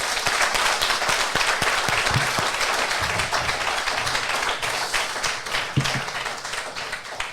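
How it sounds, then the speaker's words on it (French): A crowd applauds a Paris Marathon 2024 finisher outdoors, dense steady clapping with sporadic louder claps and brief stray noises, continuing evenly throughout. "Je pense qu'on peut encore l'applaudir."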